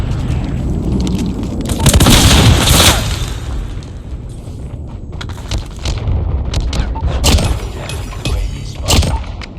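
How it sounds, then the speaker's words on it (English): An enemy strafe run in Call of Duty Mobile: a loud rumbling boom swells early, then scattered sharp gunfire bursts and explosion cracks crackle through the rest. "Enemy strafe run is inbound."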